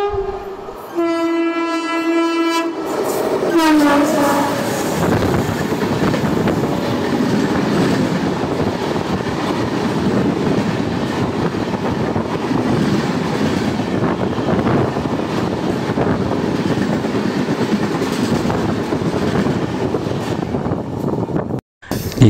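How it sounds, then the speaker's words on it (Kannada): Bengaluru–Mysuru Shatabdi express train passing through Mandya railway station, its horn sounding in short blasts at first, then a loud continuous roar and rumble of the coaches rolling close by for the rest of the pass. "ಬೆಂಗಳೂರು ಕಡೆಯಿಂದ ಶತಾಬ್ದಿ ಟ್ರೈನ್ ಬರುತ್ತೆ"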